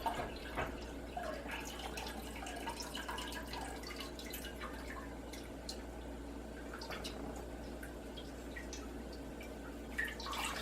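Liquid from squeezed honeycomb, being pressed out to make washed comb mead, drips steadily at close range over a constant low hum, with scattered small splashes and no voices.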